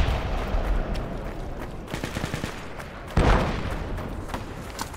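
Gunfire and booming mortar rounds in a war video game battle, a steady crackle of shots with one louder heavy impact partway through, continuous and fairly near.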